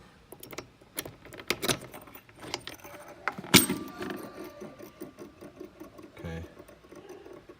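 A key turns in a lower fairing lock on an Indian Roadmaster motorcycle, producing close metallic clicks, jingles and scrapes in scattered bursts, with one sharp louder clack midway.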